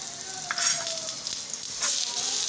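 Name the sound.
leftover roti frying with oil on a griddle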